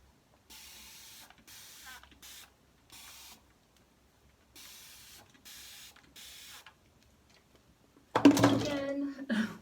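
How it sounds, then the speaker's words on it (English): A handheld spray bottle mists water onto hair being wetted during a wash routine, a run of short, quiet hissing bursts with gaps, ending in a louder, closer rustle. "spray with water"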